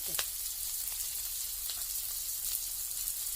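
Turmeric goes into a pan of frying garlic, chilli and ginger, giving a steady close sizzle with a few faint clicks and scrapes of stirring.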